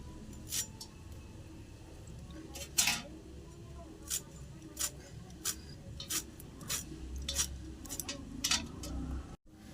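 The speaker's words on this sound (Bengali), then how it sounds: "ধনে পাতাটা কেটে নিচ্ছি।" Fresh coriander leaves are chopped for a home-style tomato bharta, producing a series of crisp, irregular cutting clicks, each short and distinct, over quiet kitchen background.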